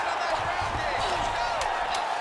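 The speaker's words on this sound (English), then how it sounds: "Oh, you heard the crowd pop after that grueling ground battle." Arena crowd at a UFC Saturday Night fight roaring and cheering after a ground battle, a loud sustained wash of crowd noise with scattered shouts, under commentary talk.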